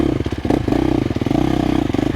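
A 2025 KTM 350 XC-F dirt bike in first gear climbing uphill on light throttle, its single-cylinder engine putting out a loud, rapid, pulsing putter with clattering from the trail, close to the rider.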